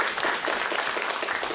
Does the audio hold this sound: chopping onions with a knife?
no